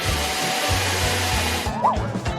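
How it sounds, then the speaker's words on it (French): A household vacuum cleaner with a new brush drones steadily and loudly close by, its hum running throughout with slight wavering, and a brief higher whine near the end. "Eh bien, rien qu'un petit coup d'aspirateur ne puisse régler."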